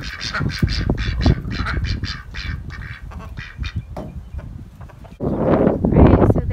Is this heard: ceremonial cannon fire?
no